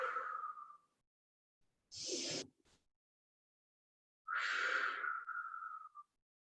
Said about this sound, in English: Just breathe in here.